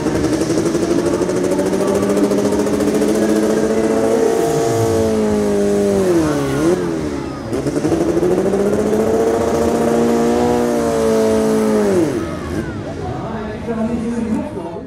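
A compact diesel garden puller tractor, the Little Dreamer, revs loud and close. Its engine pitch climbs and falls in repeated sweeps over a steady, heavy roar.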